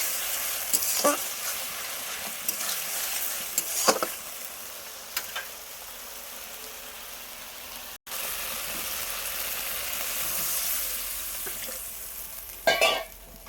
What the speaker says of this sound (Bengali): নিয়ে এবার আমি মশলায় জল ঢেলে দেবো